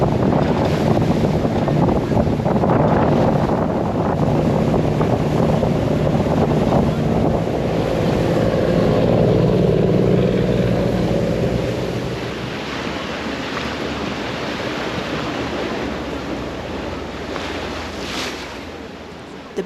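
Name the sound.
boat ride on water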